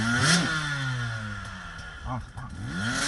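A 125cc enduro dirt bike engine revving and bogging, with rising and falling pitch sweeps and a few sharp throttle blips, fairly close, with some clatter.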